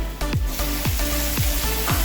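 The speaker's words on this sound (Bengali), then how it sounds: "তো এই মুহূর্তে আমি চিংড়ি মাছটা দেবো।" Chopped shrimp drop into browned onions in a hot pan and sizzle steadily, with a rhythmic scrape of stirring about every half second, close and loud.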